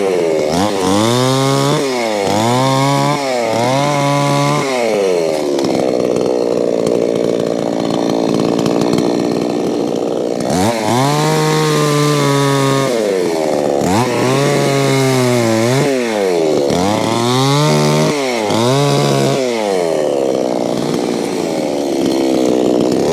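A chainsaw bucks a big salvaged timber log, its engine revving up and down in repeated cycles, loud and close, with brief idle dips between cuts.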